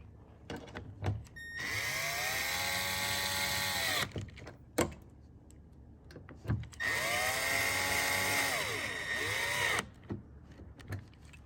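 A power drill on its low setting whirs in two long bursts of about two and a half seconds each, driving screws on a carbon fiber mirror on an RX-7 FD, pitch rising and falling, with clicks and handling noises between.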